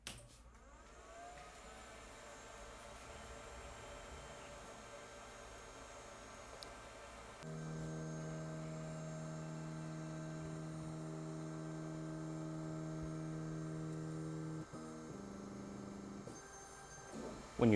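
Full Spectrum Laser Muse Titan laser cutter powering on: a faint hum rises, then steady fan and electronic tones settle into a constant drone, shifting in pitch near the end, with no talking.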